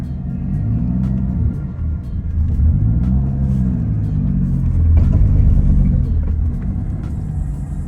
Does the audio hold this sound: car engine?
yes